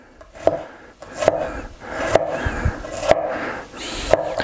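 A knife chops salo, pork fat, into large pieces on a board, with sharp evenly spaced knocks roughly once a second, close and clear, and faint scraping between strikes.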